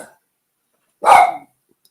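A dog indoors lets out a single loud bark at deer in the yard. The bark is short and gruff, with near silence before and after it.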